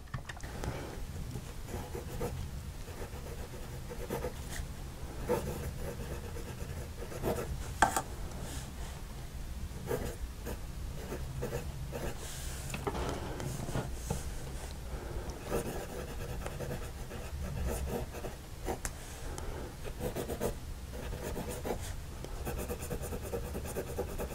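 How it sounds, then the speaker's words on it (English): A Wing Sung 6128 (Hero 368) fountain pen nib scratches across paper in steady, close strokes, a continuous dry scribbling rasp with small ticks and pauses between strokes and no voices. "let's see how this nib puts ink on paper"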